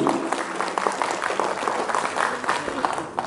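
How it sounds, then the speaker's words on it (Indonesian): At a community charity event in Purwakarta, an audience applauds a girl who has just recited a poem, a steady crowd clapping that lasts the whole short stretch with a slight murmur underneath. "Sekali lagi tepuk tangan yang meriah untuk Silvi."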